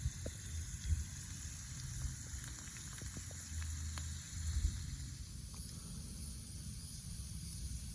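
A small campfire burns at a summer campsite in central Florida, giving a faint steady hiss with occasional soft pops and crackles, set against a constant high insect drone.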